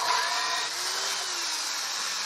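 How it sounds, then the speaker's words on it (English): Power drill boring holes in wood for the front of an outdoor bench, a steady continuous whine held near and loud for the whole stretch, with no talk. "Just drilling the holes for the front of the bench."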